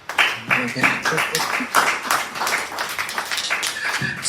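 A church congregation applauding for the father, a dense burst of clapping from many hands that carries on for several seconds with voices mixed in.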